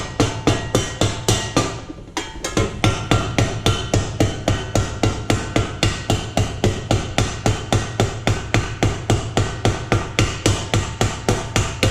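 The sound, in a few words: ball peen hammer hammering metal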